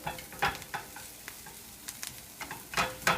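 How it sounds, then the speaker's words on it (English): Onions sauté in a pan with a quiet crackling sizzle, marked by repeated short scraping strokes of a utensil stirring them, close and without voices. "now we're waiting on our onions to brown"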